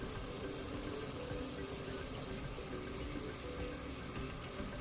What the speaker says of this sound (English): Let me go ahead and fill the water, fill the bucket up